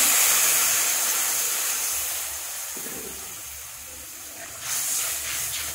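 Hot water is poured into fried spices in a pan, giving a loud, close steamy hiss that tapers off gradually, followed by a brief renewed burst of sizzling.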